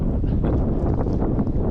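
Strong wind on a canoe trip on the Vjosa river buffets the microphone in a continuous low roar, with gusty rumbling and no voices.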